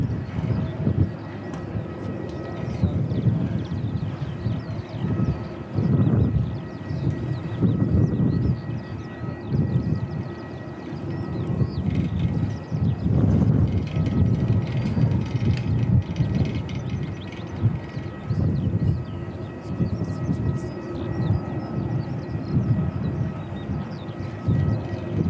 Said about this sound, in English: Oh, there's another Emirates A380.